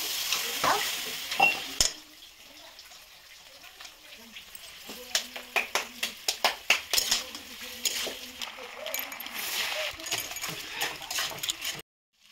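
Fish fries in a pan with a soft steady sizzle, broken by a run of sharp scraping clinks from a utensil stirring or turning it, while a voice speaks over part of it.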